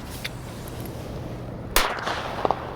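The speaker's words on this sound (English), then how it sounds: "here goes the bullet cracker" A bullet cracker firecracker explodes once in a sharp, loud bang over a quiet outdoor background, followed by brief crackling and a couple of small pops.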